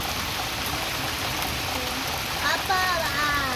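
Rain falling steadily, a dense continuous hiss close by, with faint voices and a brief tonal sound near the end.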